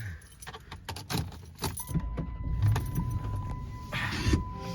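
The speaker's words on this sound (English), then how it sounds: "Let me start the car up." Keys jangle up close, followed by a Chrysler 300's engine turning over and idling, with a faint voice in the background.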